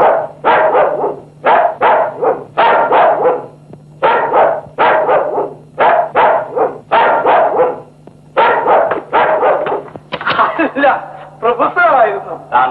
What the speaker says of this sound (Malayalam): സിദ്ധ, പട്ടി കടിക്കോ?